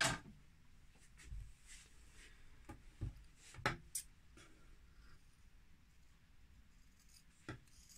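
Sharp scissors snip through fabric along a traced line while a simple summer dress is sewn, giving a few faint, scattered cuts and light rustles in a quiet room with no talking.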